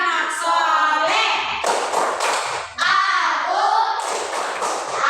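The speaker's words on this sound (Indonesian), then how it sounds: "1, 2, 3. Tepuk anak soleh." Children clap a rhythmic chant in a classroom after prayer, steady claps and taps under loud, close group voices chanting together throughout.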